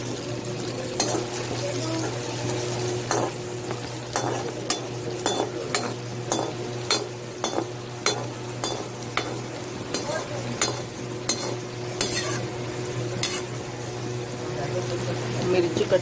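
Green chillies and curry leaves frying in oil for poha chivda, a continuous close sizzle with repeated sharp spoon-against-pan clacks and stirring scrapes throughout, over a low steady hum.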